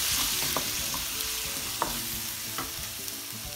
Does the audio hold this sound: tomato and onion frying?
yes